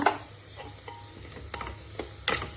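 Beef curry seasoned with black pepper powder and garam masala being stirred in a pan, soft continuous cooking hiss with a few sharp spoon scrapes and clicks against the vessel, close up and without speech.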